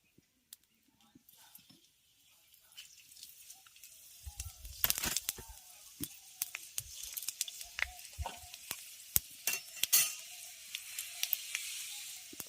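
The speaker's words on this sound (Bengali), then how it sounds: "এবার তেলের মধ্যে ফোড়নে দেব একটা শুকনো লঙ্কা আর পাঁচ ফোড়ন" A dry chili and panch phoron dropped into hot mustard oil in a kadai, starting near silent, then breaking into a lively crackling sizzle with scattered pops and a few utensil knocks.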